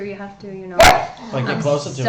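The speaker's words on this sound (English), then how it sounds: "sorry about the dog. He just thinks this is a party" A single loud dog bark cuts in close by during a casual video call, with people talking before and after it.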